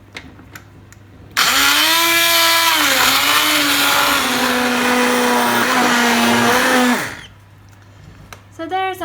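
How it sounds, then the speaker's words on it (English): A hand blender whirs loudly and steadily through vegetable soup for about six seconds, its motor pitch dipping slightly as it works, then cuts off abruptly, with brief clatter before and after. "I'm just going to use the hand blender and give it a blend."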